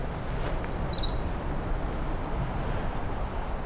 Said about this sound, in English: Let's get closer to this myrtle warbler.